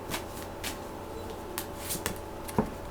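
Tarot cards being handled and drawn, giving soft papery swishes and flicks at irregular intervals, with a small snap near the end, quiet and close.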